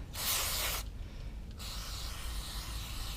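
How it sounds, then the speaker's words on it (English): A loud burst of aerosol throttle body cleaner sprayed into a car's throttle body hisses for under a second, then stops; quieter hissy background follows, with no talking. "spray in there and let that settle."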